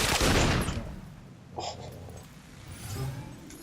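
Gunfire in the video game Fable II: a loud, dense burst of shots at the start that fades into scattered softer reports and rumbling combat noise, with no voices.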